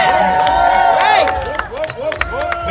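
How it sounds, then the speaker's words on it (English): A loud crowd cheers, whistles and applauds at a celebrity championship boxing event, the roar steady and dense throughout with voices shouting over it. "let's give them one more round of applause."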